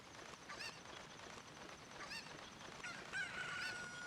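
A chicken squawks and clucks in a randomizer video game, a few short, thin, bird-like cries rising over steady game background noise, followed near the end by a brief sustained whistle-like tone.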